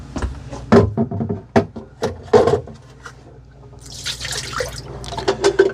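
Dirty water drips and splashes irregularly as it drains from the tank of a Eufy E28 robot vacuum and mop, with a series of close wet plops and trickling spurts, some louder than others.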